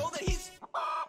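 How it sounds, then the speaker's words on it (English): A cartoonish chicken sound effect from the Poppy Playtime Chapter 3 video game clucks loudly and close, a short squawk followed by a sustained crowing call. "I like how they use the chicken sound effect."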